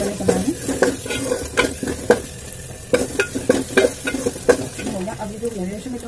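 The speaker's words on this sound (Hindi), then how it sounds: "अब हम इसमें डालेंगे थोड़ा सा अदरक लहसुन पेस्ट जाएगा इसके अंदर 1 चम्मच, ठीक है, हल्का सा 1 मिनट के लिए इसको भून लेंगे" Ginger garlic paste fries and sizzles with chicken in a home kitchen pan while a utensil stirs and scrapes repeatedly. The clatter is close and busy and keeps an uneven rhythm over a steady sizzle.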